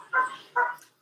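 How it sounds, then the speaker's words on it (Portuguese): Two short barks from a dog nearby, each loud and distinct, spaced about half a second apart, with no talk over them. "Os cachorros começam a latir aqui do lado"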